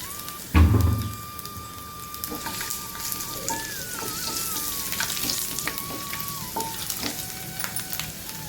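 Native garlic frying in hot oil for a medicinal tamarind kuzhambu, a steady close sizzle after a brief knock, continuing evenly with a faint tone underneath.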